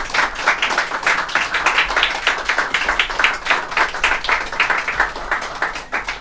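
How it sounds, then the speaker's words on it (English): A festival audience at a Plymouth poetry event in a print studio and gallery claps steadily, a dense roomful of hands keeping up a loud, even round of applause from start to finish. "I'm going to ask that we all give a final round of applause to Jennifer and the American"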